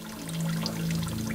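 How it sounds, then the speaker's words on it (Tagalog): Dirty, rust-colored water runs from a household faucet, a steady close pour with a low hum underneath, no voices. "ang maruming tubig na lumalabas sa kanilang gripo"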